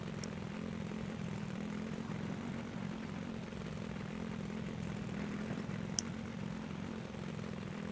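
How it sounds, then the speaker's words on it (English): An ATV engine in a survival video game, driven at a steady pace, a faint continuous low droning hum with no clear changes. "Actually, I'm driving this ATV pretty good."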